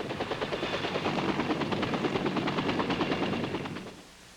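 Military helicopter rotors at a refueling pad in the Vietnam War thump in a steady, fast chop, loud and close, holding for a few seconds before fading away.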